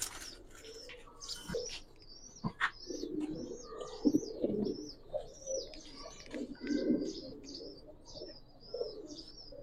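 Giribaz silver pigeons coo in low, rounded bursts close by, repeating irregularly while other birds chirp brightly in the background.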